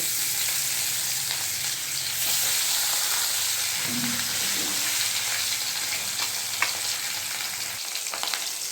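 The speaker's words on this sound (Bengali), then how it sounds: "এবার কড়ার মধ্যে আমি তেল দিয়ে দিচ্ছি। মাছগুলোকে আমি ভেজে নেব।" Pieces of catla fish fry in oil in a kadai with a continuous fizzing sizzle at moderate level, small bubbling pops scattered through it and a quieter stretch toward the end.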